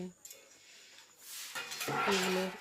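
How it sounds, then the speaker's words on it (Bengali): A lid clatters as it is lifted off a pot of potatoes cooking on the stove, giving a short metallic clink and scrape after a quiet stretch of faint kitchen sounds. "এবার ঢাকাটা খুলে আর একবার আমি দেখে নিচ্ছি যে আলুগুলো সিদ্ধ হয়েছে কিনা"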